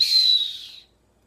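A referee's whistle gives one sustained, shrill blast that tapers off and fades to silence within a second, heard alone and close.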